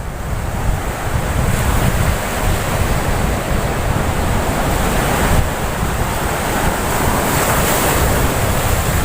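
Sea waves break and wash steadily along a beach in Goa, a continuous loud roar of surf mixed with wind buffeting the microphone, with no voices over it.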